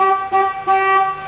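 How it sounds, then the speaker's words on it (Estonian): A BMW E46 Touring car horn sounds loud and close in three honks, the first two short and the last held longer, with a bright, slightly harsh tone. "Lähen tuututan ringi."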